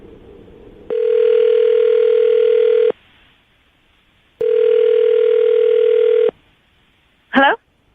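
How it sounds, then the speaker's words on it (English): A telephone call rings out over the line: two long, loud, steady ringback tones separated by a pause, then a short click as the line connects. "I'm going to dial the phone number right now and get her on the phone"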